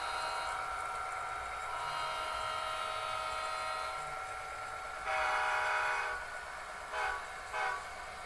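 Model trains run on an outdoor garden layout on a sundeck, giving a steady mechanical hum with tonal whistle-like blasts, one longer and two short ones near the end, and no talking.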